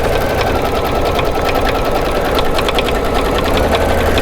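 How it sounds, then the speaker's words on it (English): An embroidery sewing machine stitches background fabric down over a placement line, a loud steady mechanical whir with a rapid, even needle rhythm running throughout without pause. "You're just going to lay the background fabric right over the top of the placement and sew it down."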